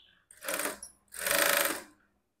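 A sewing machine stitches blouse fabric in two close, steady bursts of whirring needle action, the second longer than the first, with a brief pause between and no talking.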